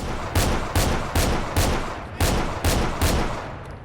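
Gunfire in Fallout 4: about seven heavy shots at a steady, slightly uneven rhythm, each a loud broadband crack with a short decaying tail, close and alone with no talking.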